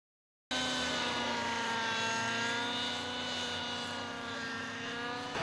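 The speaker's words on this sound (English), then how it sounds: "So what you're seeing today is by far the most difficult aerobatic maneuvers flown by any computer-controlled helicopter." A computer-controlled autonomous helicopter flies aerobatic stunts, its engine and rotors producing a steady, loud whine with strong tonal harmonics. The sound begins abruptly after a brief silence and then holds fairly constant, with no talk over it.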